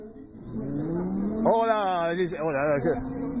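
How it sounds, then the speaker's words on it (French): A Ferrari pulls away at a street event, its engine rising in a clear rev with audible gear changes, moderately close, while crowd chatter and voices carry on underneath. "le maire de Châtelaillon est parti dans la Ferrari"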